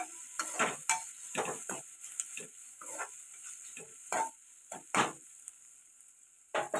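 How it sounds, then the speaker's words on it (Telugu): Vegetables and coriander are stirred in a sizzling pan for street-food egg noodles, with repeated sharp scraping strokes of the spatula over a constant frying hiss. "అలాగే కొత్తిమీర, ఇప్పుడు ఇవన్నీ కలుపుకుందాం."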